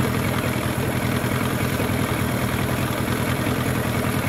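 A 15hp outboard motor idles steadily during a thermostat test, a loud, continuous close-up chugging drone with an even rhythm and no talk.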